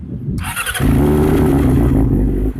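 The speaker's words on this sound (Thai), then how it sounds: "สี่สูบเรียงเสียงหวานเจี๊ยบของยามาฮ่านะทุกคน" A Yamaha R6 inline four-cylinder sport bike revs loudly and close, the engine note rising sharply after a brief lower rumble and holding a high, smooth sustained howl before easing off near the end.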